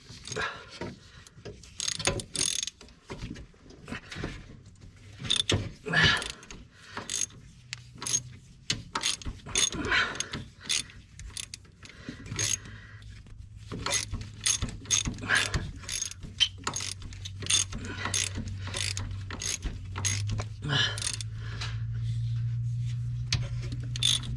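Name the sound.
ratchet wrench loosening a bolt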